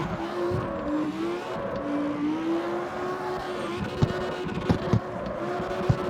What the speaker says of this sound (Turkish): Şimdi bir driftini deneyelim bakalım.